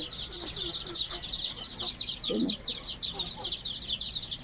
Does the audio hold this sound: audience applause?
no